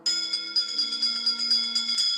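A bell rings inside the Haunted Mansion ride recreated in a Roblox game, with a steady electric-style trill, bright and close, lasting a couple of seconds under a faint low musical hum.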